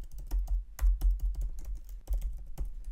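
Quick, soft clatter of fingers typing on a computer keyboard at close range, irregular keystrokes in short bursts with a low steady hum beneath.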